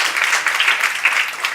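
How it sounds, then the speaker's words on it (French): A short burst of steady audience applause at a conference on the elderly, dense clapping from a crowd that stays loud throughout the moment. "Merci beaucoup pour vos applaudissements."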